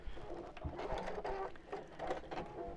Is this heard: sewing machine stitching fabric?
yes